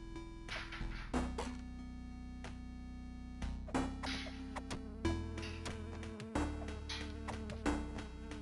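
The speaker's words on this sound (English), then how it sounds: "Freaking bees, man." Bees buzz in the side-scrolling video game Chasm, a steady droning hum under game music and sound effects, with repeated sharp whacks of melee hits landing every second or so.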